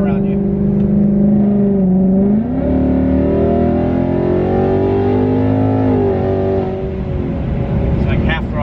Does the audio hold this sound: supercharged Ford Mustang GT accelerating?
yes